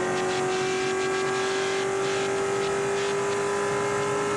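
Porsche and Corvette race cars circling Daytona International Speedway in a Spec Corvette Series race, a steady loud engine drone with a constant high whine and faint tire noise, no talking.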